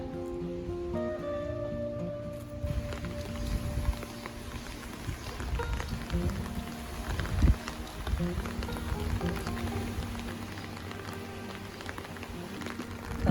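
Soft, steady patter of rain falling on a beach in Odesa, a faint wash of drops heard at a distance.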